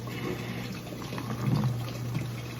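Water from a garden hose runs steadily into a basin, a continuous close splashing and trickling with no pauses throughout.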